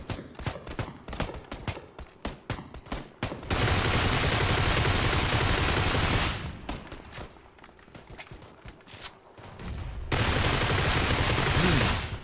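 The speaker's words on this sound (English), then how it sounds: "my brother said that this is basically an AK, but in micro Uzi mode. So it does shoot faster." Rapid bursts of automatic rifle fire from an AK-type weapon in PUBG, a quick run of sharp shots followed by two long sustained roaring bursts with a quieter gap between them.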